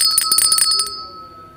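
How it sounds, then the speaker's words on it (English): A bell rings in several quick struck strokes, bright and close, over roughly the first second, then a sustained tone lingers and fades with no voices. "Ring the bell again."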